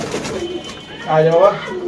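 Pigeons kept in a loft coo in soft, rolling, throaty bursts, one call swelling louder near the middle, with faint background chatter beneath.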